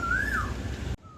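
A single rising, whistled koel call rings out over steady background noise, then the sound cuts off abruptly.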